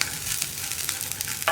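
Ginger and dates are stirred in a pan over a low flame for puli inji, giving a soft, steady sizzle with light scraping strokes and a knock at the end, with no talking.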